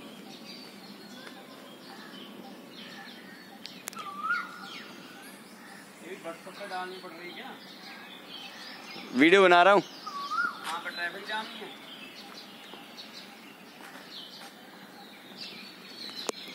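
An Asian koel calls at around 5:30 on an early morning walk, its repeated rising notes sounding at moderate distance amid other chirping birds, with one loud, brief close call midway and someone speaking briefly.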